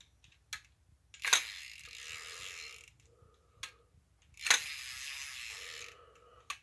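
Vintage fishing reel mechanism being worked during repairs, giving sharp mechanical clicks and ratcheting bursts with short whirring stretches between them, close and fairly quiet, no voices.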